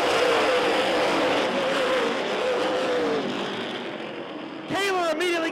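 Super late model race cars roar loudly together as the green flag drops in a 200-lap short track feature, a dense sustained engine drone with rising pitch, then a sharp burst of revving as more cars accelerate near the end.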